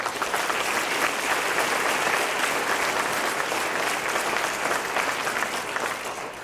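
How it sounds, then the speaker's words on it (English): A banquet crowd gives sustained applause for college baseball players, a broad wash of many hands clapping at even strength, tapering slightly toward the end. "let's give our players a great round of applause"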